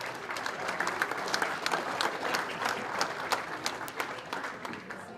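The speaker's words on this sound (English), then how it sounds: "Maybe we can give them a round of applause." A banquet audience at a hockey club's 50th anniversary event claps to thank the caterers, sustained applause with crisp individual claps, moderately distant and steady throughout.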